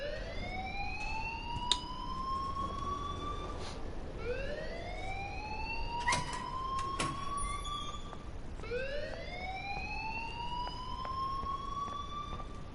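A wailing siren-style alarm blares in the video game Life Is Strange, sweeping upward in repeated rising glides roughly every four seconds, loud and steady with no voices over it.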